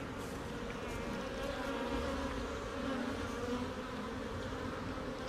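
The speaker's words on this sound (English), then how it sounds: "Adult bees in the hive will eat the nectar that the foragers bring in." Honey bees in an opened beehive fill the air with a dense, steady buzzing that holds at an even level from start to finish, close to the listener, with no talking.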